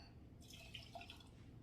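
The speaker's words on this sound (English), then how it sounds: "I'm pouring it in here to combine with the hot chocolate" Coffee is poured into a cup of hot chocolate, giving a faint, soft trickle of liquid with small dripping splashes, quiet and close against low background noise.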